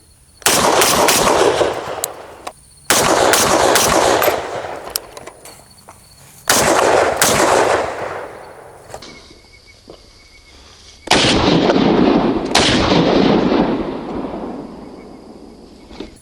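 FN FAL rifle fitted with a DSArms muzzle brake firing rapid shots outdoors: four loud bursts of closely spaced sharp reports separated by brief pauses, each trailing into echo.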